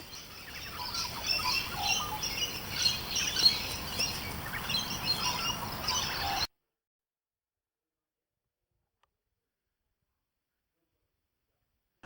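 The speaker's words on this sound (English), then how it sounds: "Galahs form huge, noisy flocks which feed on seeds" A large flock of galah parrots calls in a dense, busy chatter of chirps and screeches across the first six seconds, then the sound cuts out abruptly into silence.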